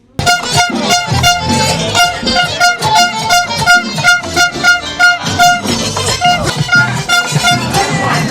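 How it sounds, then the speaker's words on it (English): Air horns blare repeatedly at a crowd during a confrontation with journalists, loud sustained tonal blasts in overlapping bursts over a dense, noisy crowd roar. "He feels how painful, excruciatingly painful, the air horns are."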